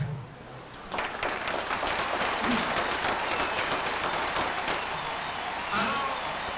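Audience applause at a live stage show, a steady wash of clapping that swells after the first second and holds loud and dense throughout, with some voices mixed into the crowd noise.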